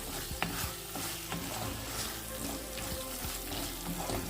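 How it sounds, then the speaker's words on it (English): Cashew nuts fry with ginger garlic paste in a steady, even sizzle, with light stirring scrapes now and then, close by and without speech. "I am going to add in the cashew nuts and give it a fry for another 1 minute"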